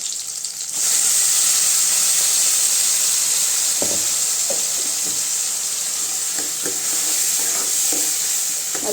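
Ground tomato fries with onion and garlic in a pan, giving a steady bright hiss of sizzling that starts abruptly, with a few soft stirring scrapes and knocks near the end. It sounds close, with no talking.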